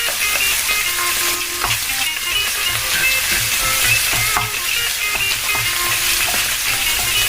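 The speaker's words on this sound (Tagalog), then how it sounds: "Gusto ko po kasi ang bawang napapray siya." Garlic frying in butter in a pan, a dense, steady sizzle with faint crackles and occasional stirring scrapes throughout.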